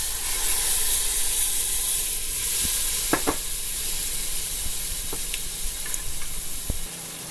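Chana dal (yellow lentils) and spices sizzle and fry in a pan, a steady hiss with a few soft clinks of stirring.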